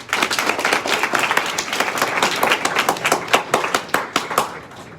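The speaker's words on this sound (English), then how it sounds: "Give yourself a round of applause" A crowd of freshmen at a College of Chief induction ceremony applauds for themselves, dense overlapping clapping that thins into scattered individual claps near the end.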